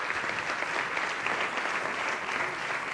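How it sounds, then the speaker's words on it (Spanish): Steady, dense applause from an audience at an awards gala, sustained and fairly loud throughout with no talking over it. "Un fuerte aplauso para Oysho."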